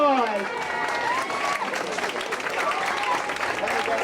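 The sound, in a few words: applause for staff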